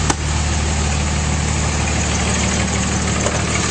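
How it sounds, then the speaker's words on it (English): A 2007 Dodge Ram 2500 Big Horn pickup with a 5.9 engine idling under the open hood, a loud, steady, close rumble with an even mechanical clatter and no talking. "And under the hood, nice clean engine bay, running very smoothly."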